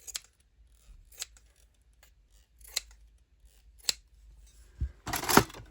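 Several crisp snips of small scissors cutting cloth, spaced about a second apart, close and clear in a quiet room, ending with a longer burst of cutting.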